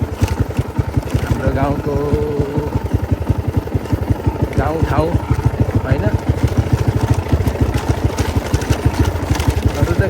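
A motorcycle engine thrums with a fast, steady pulsing beat while riding along a rural road near fields and a stream in Nepal, loud and close, with someone talking over it.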